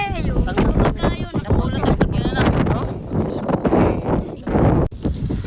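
Strong wind gusts outdoors while a large kite is flown, roaring and buffeting loudly throughout, with voices shouting over the blustery noise.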